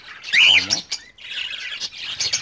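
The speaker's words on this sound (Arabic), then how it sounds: "نقرب لكم في الكاميرا لي كوكتيل والبيروش، لاحظوا حتى البيروش هنا" Cockatiels and budgerigars in an aviary let out loud, close squawks and chirps, with a sharp burst early on followed by a chattering flock.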